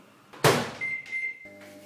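A home microwave oven clunks as its door shuts, then hums with a steady electronic tone for about half a second before further beeps and a settling thud, all close and with no voices.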